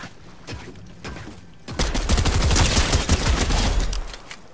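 Rapid bursts of MK Alpha rifle fire in the video game Fortnite, a loud stuttering volley that builds after a quieter opening and holds dense and continuous for a couple of seconds before tapering off.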